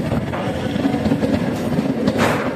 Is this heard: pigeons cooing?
no